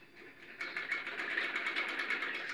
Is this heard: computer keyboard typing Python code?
no